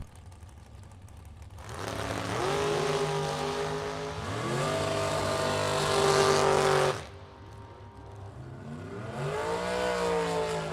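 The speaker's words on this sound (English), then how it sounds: "What a drag race." Drag race cars launch at Byron Dragway during a bracket race, engines roaring loudly as they accelerate through rising gear pulls, a second burst following closely after the first fades.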